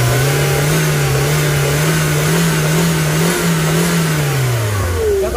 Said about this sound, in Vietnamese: Lên ga quá tắt máy